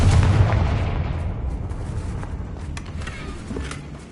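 Confringo blasting spell fired in the Hogwarts Legacy video game, a loud booming explosion that opens the clip and trails off into a long rumbling decay with scattered crackles.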